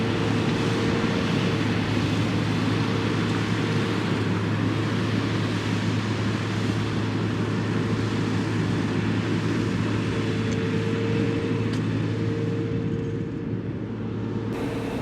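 A John Deere 5075E tractor engine runs steadily outdoors during field work with a disk, a loud constant low hum and drone holding for the whole stretch.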